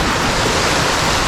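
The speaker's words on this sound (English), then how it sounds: "look at the waterfall behind me" Waterfall in the tea gardens of Haputale, Sri Lanka, a steady, dense rush of falling water that fills the whole clip without pause or voices.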